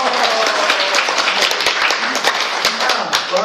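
Scattered audience applause fills the room, with distinct nearby claps over a busy background of crowd noise and some voices mixed in.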